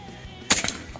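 A single sharp crack from a Satsus P1000 air rifle during a hunting test-fire, one loud close shot with a brief ringing tail, followed by faint trailing clatter in a quiet setting.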